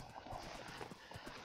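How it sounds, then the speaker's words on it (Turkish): Horse hooves clip-clop in the Minecraft video game as a fast horse is ridden, a steady run of soft, repeated thuds under a constant game background hum. "Oğlum at bayağı hızlı lan."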